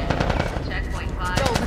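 Rapid automatic gunfire crackles in The Last of Us Part 1, a dense loud burst of shots layered under shouted voices in the game.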